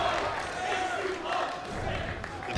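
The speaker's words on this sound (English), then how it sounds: "The crowd cheering H2O." A large crowd at the Tekken 7 World Tour Finals 2017 grand final roars continuously, a dense swelling mass of cheers and shouts that stays loud throughout the short clip, with commentary voices blended in.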